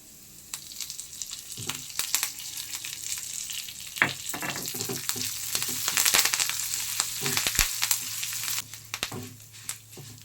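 Dried chilies and curry leaves fry in a hot pan for uppu urundai, with a steady soft sizzle broken by scattered clicks and scrapes as the mix is stirred.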